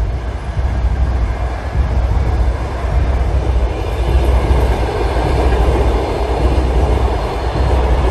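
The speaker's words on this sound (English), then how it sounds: "That's a big train." A loud train rolls past nearby in Lviv, a continuous heavy rumble and clatter of wagons on the rails with no pause.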